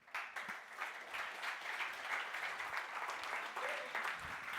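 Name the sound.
audience applause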